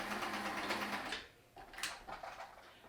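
Sewing machine stitching a fabric face mask, a fast, even mechanical whirr close up for about a second that stops abruptly, followed by quieter handling rustles and small clicks.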